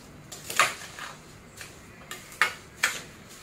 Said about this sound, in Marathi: तर असं मधून मधून हलवायचं आहे आपल्याला, एक 1/2 मिनिटाने हे हलवून घ्यायचं आहे।